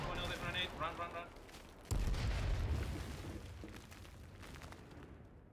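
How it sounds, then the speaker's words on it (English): A grenade explodes with a sudden low boom in the shooter game H1Z1, followed by a long rumbling decay, with excited voices and game noise before it. "Another grenade!"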